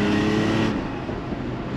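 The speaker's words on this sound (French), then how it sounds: "Gaz à fond là." Car engine pulling at full throttle heard from inside the cabin, a steady loud drone with a rising tone that shifts partway through, no talking.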